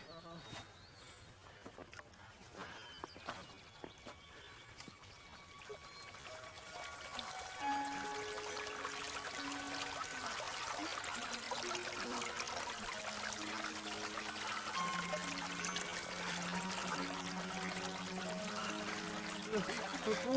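Water pours and trickles back into a stream, starting as faint splashing and rising into a fuller, steady flow, with scattered high chirps and voices talking over it.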